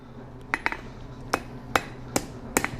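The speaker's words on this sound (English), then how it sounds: "I'm going to hammer on the unsupported piece of this." A blacksmith's hammer strikes hot iron held over the edge of an anvil while an S hook is forged. Six sharp, ringing blows land at uneven intervals, loud and close over a low background hum.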